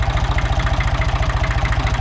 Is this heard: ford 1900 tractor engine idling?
yes